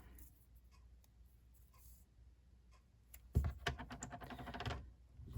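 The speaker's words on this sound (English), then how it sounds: "I'm going to put tear and tape on the back of this." Paper card-making craft with Tear & Tape adhesive being applied to the back of a paper piece: quiet, faint handling first, then a close burst of crinkly rustling and rubbing that fades and returns.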